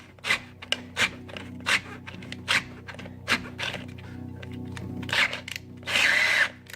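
A small, low-torque power driver unscrewing a fastener in a car engine bay gives a steady motor hum broken by a series of short, rhythmic clattering bursts, close and fairly loud, ending in a longer scraping burst.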